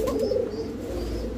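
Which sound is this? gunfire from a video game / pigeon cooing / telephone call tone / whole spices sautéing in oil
pigeon cooing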